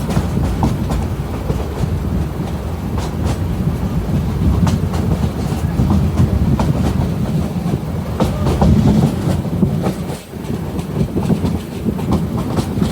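Chattogram Mail passenger train running on the rails, with steady, loud rumble and rhythmic wheel clatter throughout, close and continuous, heard from on board with no talking.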